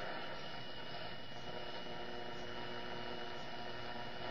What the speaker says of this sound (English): Got some RF noise.